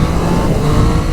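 A 2024 Triumph Street Triple RS motorcycle engine revs hard, a loud, close, sustained roar with a slight rise and fall through the short burst.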